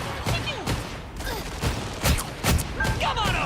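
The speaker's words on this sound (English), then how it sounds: "Someone's shooting at him." Bursts of gunfire and impacts in the Marvel Rivals hero shooter game, several sharp loud shots spaced through a busy soundscape of game effects and character voices.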